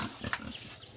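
Two-month-old farm pigs of about 55 to 60 kilos each give short, soft grunts close by, quick snuffling bursts in a brief moment.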